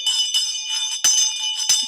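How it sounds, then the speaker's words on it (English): A bell rings out clear and bright in a short sequence of struck tones, each strike ringing on briefly before the next, loud and close with no talking. "Love this bell."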